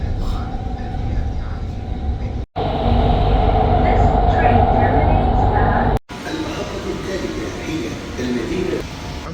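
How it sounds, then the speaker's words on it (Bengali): An underground metro train in Qatar rumbles along the tracks with a loud, steady roar and rattle, cut by two brief breaks, while someone talks over the noise. "underground metro"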